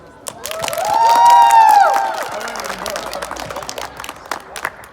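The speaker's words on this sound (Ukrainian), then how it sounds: "Оплески кращому гравцю." Audience applause greets the best player at an awards ceremony, a burst of clapping and cheering that swells for about two seconds and then settles into scattered claps under voices and shouts.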